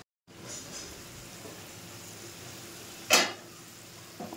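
Spice paste sizzles steadily in oil in a pan while cooking prawn bhuna, a soft continuous frying hiss with a brief louder scrape of a utensil partway through.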